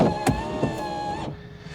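Large windscreen wiper motor on a Microlino electric microcar sweeping with washers running, a close mechanical whir with a couple of brief thumps, fading near the end.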